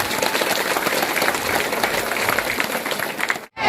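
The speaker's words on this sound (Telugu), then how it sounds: "మన అందరి తరపున ఇంకొకసారి చప్పట్లు కొట్టాలి." Om Shakti devotees at a night gathering break into another round of sustained group clapping, a dense, even roar of hands that holds steady and then cuts off abruptly near the end.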